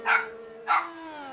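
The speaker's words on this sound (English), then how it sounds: "Apologies if you hear my dog in the background now." A dog gives two sharp barks about half a second apart, moderately close and set against a steady low hum in a home during a sim racing broadcast.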